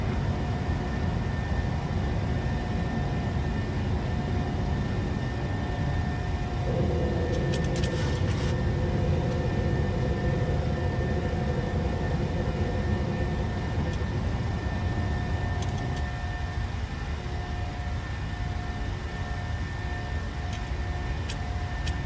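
PMDG 737-600 jet climbing out of Tunis after takeoff in Microsoft Flight Simulator: a steady, dense engine roar heard from the cockpit, with faint clicks and small shifts in tone partway through.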